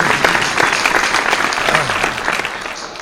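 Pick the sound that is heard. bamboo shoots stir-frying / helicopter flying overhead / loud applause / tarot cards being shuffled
loud applause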